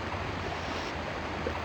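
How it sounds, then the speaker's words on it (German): Water splashing and gently lapping in the WWII strategy game Sudden Strike Forever, a steady broadband wash with no talk over it. "Also ein bisschen plätschern"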